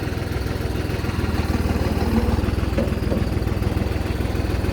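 Tractor engine idling during parking gives a steady, low, rhythmic chug at moderate distance throughout, with no voices over it.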